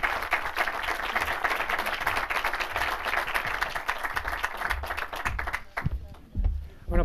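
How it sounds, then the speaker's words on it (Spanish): An audience at a public administration forum gives steady applause as a round-table discussion closes, with dense clapping that carries on and then fades near the end while a voice speaks. "Yo creo que se han merecido un aplauso."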